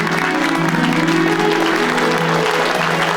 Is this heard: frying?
no